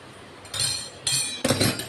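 Three bright, ringing glass clinks spaced about half a second apart, close by and fairly clear against a quiet background.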